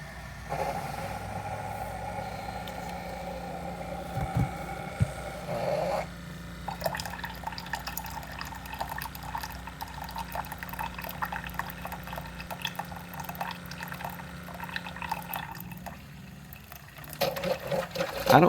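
A coffee maker brews its smallest size with little water in the tank, giving a steady mechanical hum with gurgling and dripping that shifts in tone partway through, continuous and close.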